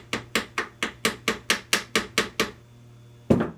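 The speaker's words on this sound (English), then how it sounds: "Be careful when you're wrapping with your hammer. You don't want to bust the case." A hammer taps an aluminum engine case on a 1986–1989 Moto-4 in about ten quick, evenly spaced metallic knocks, then a pause and one final harder strike.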